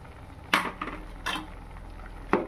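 A spoon scrapes a pot three times in slow, spaced strokes as a vegetable curry of beans, eggplant and potato is stirred with chilli and cumin powder, fairly quiet with a soft hiss of cooking underneath.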